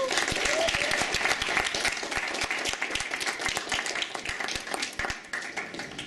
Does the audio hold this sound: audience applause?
yes